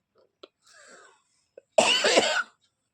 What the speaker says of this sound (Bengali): সরি বন্ধুরা, প্রচণ্ড কাশি হয়েছে